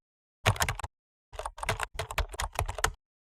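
Rapid typing on a computer keyboard while entering a student name into a program, with two close, loud bursts of clicking keys separated by a short pause.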